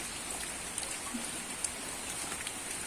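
Steady rain falls on a Thai farm where ducks and chickens are kept, a soft continuous hiss with occasional louder drops, fairly faint and with no voices.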